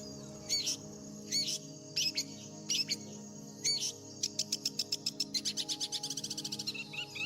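A small desert shrike calls out alone, first in a few separated buzzy chirps, then in a quickening string of sharp, evenly spaced notes over a low steady background hum.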